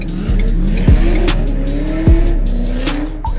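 A Nissan 350Z drift car roars close by, its engine revving in repeated surges with tire squeal and skidding as it slides, loud and continuous with no talking.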